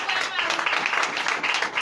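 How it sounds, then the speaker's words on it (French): Church congregation at a Sunday worship service in Benin clapping in acclamation, a steady rippling applause that fills the room at moderate volume with voices mixed in. "Donnez l'acclamation"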